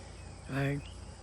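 A single honeybee buzzes briefly and close by near backyard hives, a short rising-and-fading drone over a steady low background hum.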